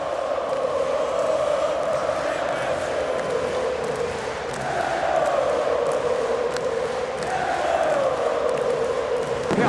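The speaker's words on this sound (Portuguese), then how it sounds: "Vamos ouvir a torcida do Flamengo" Flamengo supporters chanting in unison at Maracanã stadium during a 2019 Libertadores match against Internacional, a loud sustained rhythmic mass song rising and falling in waves, filling the whole space.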